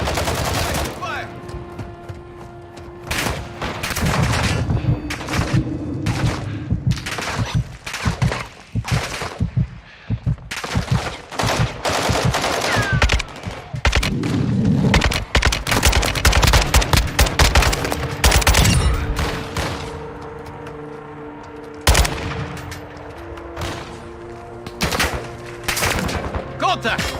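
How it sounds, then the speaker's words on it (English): Heavy gunfire in Call of Duty DMZ, with repeated sharp bursts and machine-gun volleys over nearly half a minute, loud and close, broken by short lulls and mixed with game voices. "Taking effective fire!"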